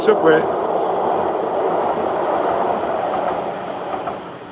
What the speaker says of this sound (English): That's the Subway, my friends.